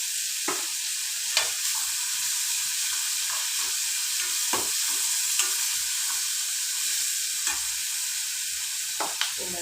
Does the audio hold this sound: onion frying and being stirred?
yes